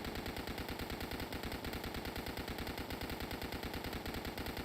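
Rapid, sustained automatic fire from the Limited Edition Gut Stitcher SMG in the game Dead Frontier, an evenly spaced stream of sharp shots continuing without pause.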